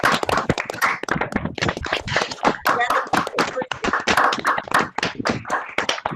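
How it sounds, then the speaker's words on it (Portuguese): A small group gives the professor a round of applause at the close of a physics-teaching webinar, with distinct, uneven claps from a handful of people rather than a dense crowd roar. "nós demos mais uma vez uma salva de palmas à professora"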